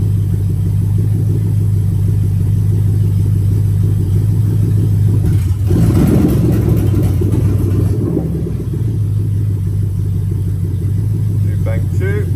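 A Toyota UZ-FE V8 with VVT-i, fitted in an IS200, idles with a loud, steady low hum during a bank 1 oil control valve test, roughening and shifting for a few seconds midway before settling back.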